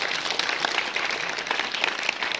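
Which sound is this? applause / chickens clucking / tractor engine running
applause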